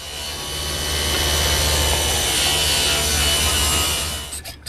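Steady, continuous broadband rasp of a saw cutting a bevel along the bottom edge of a wooden board for a chop saw station, loud and close, running unbroken before tapering off at the end.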